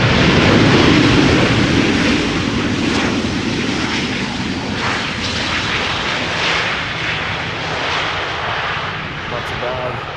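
A loud, continuous roar of an airliner landing at Schiphol Airport using thrust reversers fills the air, steady and rumbling throughout, with a voice faintly present underneath.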